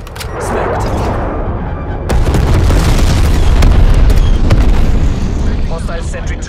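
A napalm strike explodes in the shooter game Call of Duty: Black Ops Cold War, a loud rumbling blast that swells after a short buildup and rolls on with crackling bursts before easing off.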